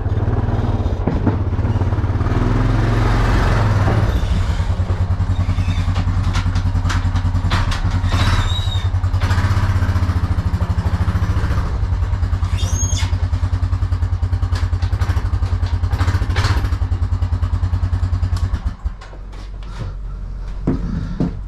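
A sit-down zero-turn mower with a snapped parking brake cable runs loudly nearby as it is driven up onto a trailer, its steady engine drone joined by clanks and thumps before it quiets near the end.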